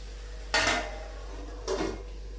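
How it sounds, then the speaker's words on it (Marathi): Two metallic clanks as a lid is set onto a cooking pot in a home kitchen, the first sharper, the second softer about a second later, over a low steady hum. "आता त्याच्यावर 5 मिनिटं झाकण ठेवते."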